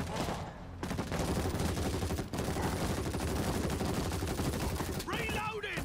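Rapid assault shotgun fire in the zombie shooter World War Z: Aftermath, dense, loud back-to-back blasts from nearby, almost continuous for several seconds, with voices talking over the shooting.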